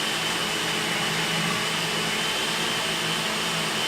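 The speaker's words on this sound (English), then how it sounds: "So you want to get it back on the blender and get that mint incorporated." A blender whirs steadily and loudly for several seconds while blending a frozen drink with mint, a constant motor drone with no talk.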